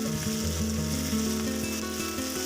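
Chili powder and turmeric sizzle in hot oil in a pan while pointed gourd and prawn curry is being cooked, a steady, close, even frying hiss with no voices.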